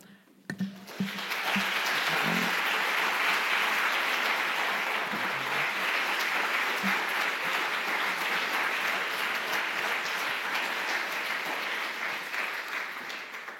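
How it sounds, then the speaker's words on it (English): Audience applause after a talk about painting, rising quickly into a long, full, sustained wash of clapping that holds steady for over ten seconds before easing off slightly. "Well, thank you for that applause."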